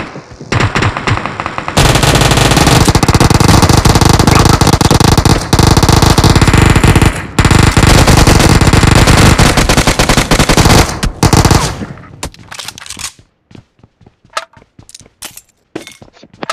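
Loud, sustained automatic gunfire from a video game fires in a dense continuous burst for about ten seconds, then breaks into scattered single shots and sharp cracks before trailing off.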